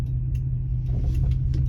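A 1962 Plymouth Valiant S Series engine, carburetor just fixed with a Holley 350 cfm power valve replacement, idles smoothly and steadily with a low even rumble, close by and alone.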